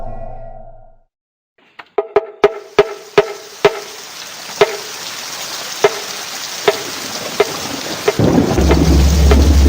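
Rain falls steadily over a quiet village as a rapid series of sharp thunder cracks rings out, then gives way to a dense, building rainfall roar.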